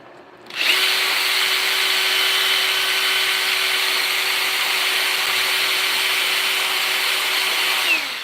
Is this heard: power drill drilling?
yes